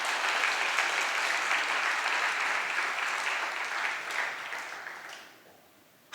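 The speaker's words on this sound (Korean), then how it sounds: "박수 한번 쳐주세요" Congregation applause at a Korean church revival service, a dense sustained clapping from a large crowd that fades out over the last second, with faint voices under it.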